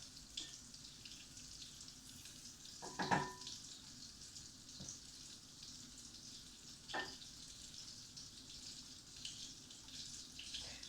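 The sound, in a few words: butter melting and sizzling in a pan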